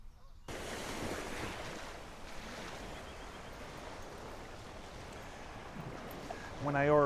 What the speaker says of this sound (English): today's waves are crashing just beautifully